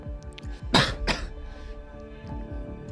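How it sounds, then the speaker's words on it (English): A person coughs twice in quick succession, close and sharp, over quiet background music from a game. "I literally got a cough."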